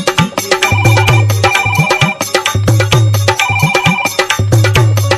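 A phone ringtone plays loudly and continuously, a bright repeating electronic melody over a steady rhythmic beat, with no talking.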